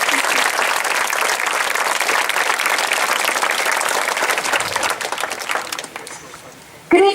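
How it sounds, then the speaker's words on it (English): Applause from a large audience at a 2018 high school graduation ceremony, dense and sustained clapping that thins out toward the end, followed by a short burst of voice near the microphone. "Applause for Zach and Kayla for dealing with the microphone and making it amazing anyway."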